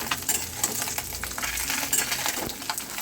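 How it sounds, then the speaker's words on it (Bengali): Fish frying in hot oil in a wok for a home-style Bengali dish, with a steady sizzle and scattered clinks as the pieces are turned. "খুব ভালোভাবে ভেজে নেবো যাতে কাটাগুলো ভাজা হয়ে যায়"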